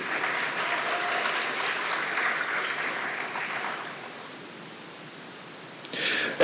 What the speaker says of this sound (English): Let's have a round of applause for the ECSU Drumline and the Delights.